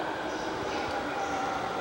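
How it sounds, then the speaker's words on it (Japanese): Utsunomiya Line train bound for Koga at Ueno station: a steady, moderately faint rumble of a train on the rails with low mechanical churning throughout. "乗るのはこの列車宇都宮線古河行きです。"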